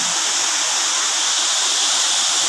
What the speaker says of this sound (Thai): น้ำตกก้อหลวงหนึ่งแหล่งท่องเที่ยวในเขตของอุทยานแม่ปิง จังหวัดลำพูน